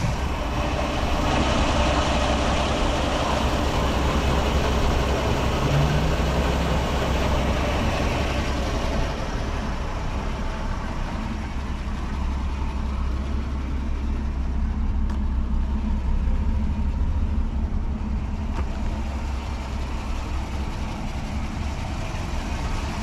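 A 1966 Ford Mustang engine idles smoothly and evenly, a loud, steady low rumble heard up close for a sustained stretch with no talking.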